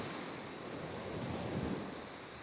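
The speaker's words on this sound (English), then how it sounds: "hopefully, you're still enjoying the ocean sounds" Ocean waves wash in a steady, soft roar, fairly quiet and even, with a faint swell of surf midway and a touch of wind noise, no talking.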